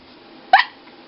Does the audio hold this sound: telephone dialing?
no